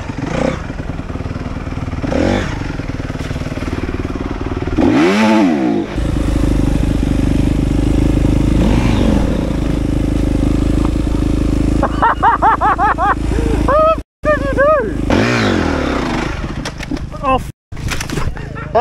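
An enduro dirt bike revs hard for a practice start, its engine loud and close with rising and falling throttle bursts throughout, and a voice speaks briefly over it.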